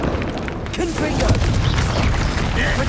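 Confringo fire spell explosions in Hogwarts Legacy burst loud and near in a dense, rumbling barrage, with blasts overlapping continuously amid combat noise.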